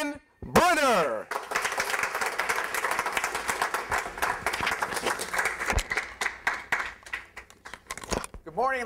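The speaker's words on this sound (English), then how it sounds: "I want you to give him a warm round of applause" A crowd claps warmly to welcome a speaker at a business talk, a full burst of applause that swells, holds steady and then thins, with brief whooping or rising tones near the start and end.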